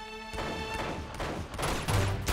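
Rapid bursts of Uncharted 2 game gunfire, blank rounds, crackle in a dense volley, with a steady electronic background tone running underneath.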